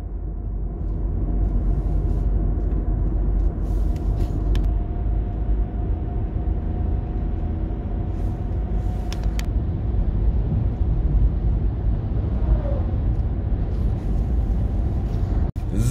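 Steady, loud rumble of a car driving along a road past Schluchsee, continuous road and engine noise throughout with no talking.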